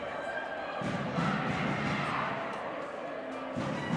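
Crowd in a gym at a junior girls' high school volleyball championship, cheering and shouting in a sustained, loud roar with a few thuds, voices blended throughout.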